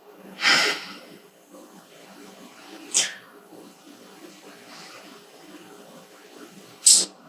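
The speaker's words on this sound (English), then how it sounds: "Release the breath through the nose." Three sharp nasal exhalations during a meditation, spaced a few seconds apart, each a brief breathy puff through the nose against near silence, the last one the loudest and closest.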